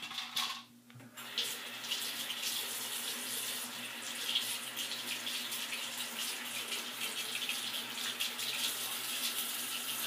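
Water runs steadily from a sink tap, a constant close splashing hiss after a brief pause near the start, with no talking.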